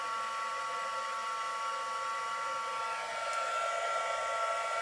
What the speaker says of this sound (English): I'm going to use the heat tool to heat emboss this. This is noisy.